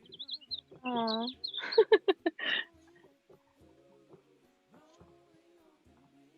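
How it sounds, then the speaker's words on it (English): Birds chirp and sing outdoors at a live festival, with a burst of trilling calls and a rapid run of loud chirps early on, then fainter scattered calls, while a person speaks nearby. "I don't know if you guys can hear the birds, but they are jamming right now."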